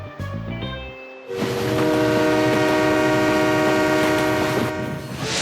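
A train rumbles loudly nearby while its horn sounds a sustained chord, after a brief earlier horn blast.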